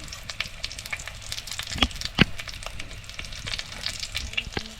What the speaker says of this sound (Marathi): तशी मस्त भाजली आहे मिरची